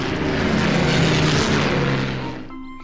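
Loud droning roar of many propeller planes flying at once in the video game Banjo-Kazooie: Nuts & Bolts, steady for a few seconds and then fading.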